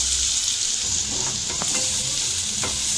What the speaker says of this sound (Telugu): ఆయిల్ వేసుకున్నాక సన్నగా తరిగిన ఉల్లిపాయలు అలాగే సన్నగా కట్ చేసుకున్న పచ్చిమిర్చి కూడా వేసుకొని కొంచెంసేపు అయితే ఫ్రై చేసుకుందాం